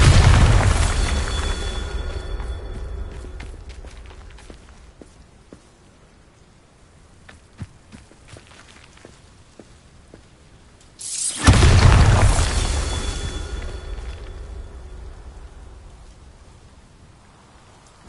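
The Bombarda spell goes off twice in Hogwarts Legacy, each a heavy booming blast with a long crackling, rain-like debris tail that fades slowly, separated by a quiet stretch.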